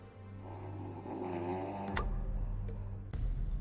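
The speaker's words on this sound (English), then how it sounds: "The General sure can snore." A character snores in the video game Emerald City Confidential, slow rumbling breaths in a quiet scene with low background hum and a few sharp clicks.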